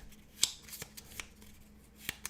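A deck of Arkham Horror cards is shuffled by hand, producing quiet, sharp riffling snaps and soft clicks scattered irregularly across a few seconds, close and faint.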